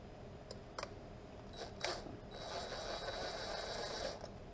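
Screws threading into soft material while mounting a PWM unit on a Pescador Pro 120 kayak, heard as quiet ratcheting clicks and a few sharp taps, then a steadier grinding whir toward the end.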